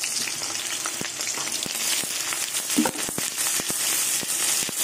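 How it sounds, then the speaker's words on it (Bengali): Brinjal slices sizzle steadily in hot oil in a pan, with sharp pops and crackles scattered throughout, close and fairly quiet. "এবার বেগুনগুলো লাল লাল করে ভেজে নেব"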